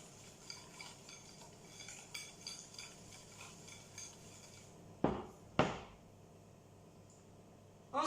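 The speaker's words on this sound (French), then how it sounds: "Ensuite, on va rajouter 80 g de farine. Je remue encore." Batter being stirred after flour is added, soft rhythmic scraping of a utensil around a bowl, quiet and close, followed by a few sharper knocks and clinks against the bowl.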